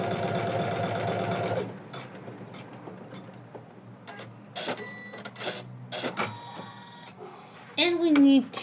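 An embroidery machine stitches decorative stitches on an in-the-hoop felt heart, humming steadily at first, then breaking into intermittent mechanical whirs and clicks, with a brief higher squeak near the end.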